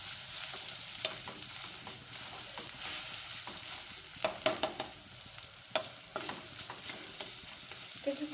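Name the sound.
taro leaves frying in a pan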